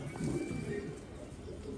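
Pigeons coo softly and close by, low rolling calls over faint background noise.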